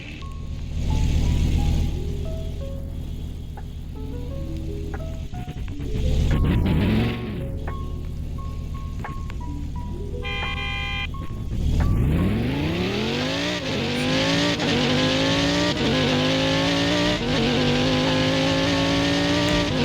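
A car drives in a Southwest Florida driving video game, its engine droning and revving through gear changes with rising pitch sweeps, a brief tire squeal and shifts near the middle, loud and continuous without talk.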